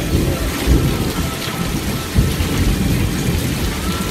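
Heavy rain and hail pour down during a thunderstorm under a tornado watch, a dense, constant roar of drops hitting surfaces with low rumbling thunder underneath, loud and close, with no voices.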